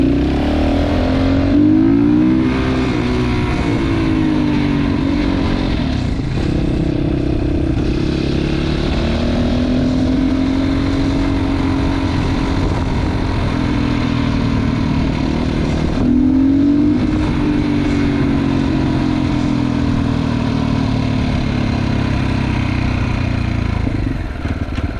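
A Kawasaki GPX300R motorcycle fitted with an ARacer ECU idles slightly high with a steady mid-pitched engine drone, rising and falling gently in a few soft blips of revs.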